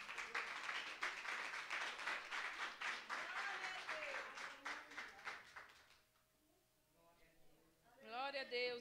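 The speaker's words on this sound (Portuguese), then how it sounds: "A igreja recebe o círculo de oração com as palmas." A church congregation applauds the prayer circle with loud, sustained rhythmic clapping that fades out, followed by a voice speaking over the quiet room.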